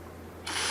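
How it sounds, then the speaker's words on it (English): A power drill on a 2021 Toyota hatchback spins up abruptly after a near-silent pause, starting a small pilot hole for an OEM spoiler, and whines loud and steady to the end. "So we're going to drill in 3 increments, the first one being 1/8 of an inch, and you got to go very slow."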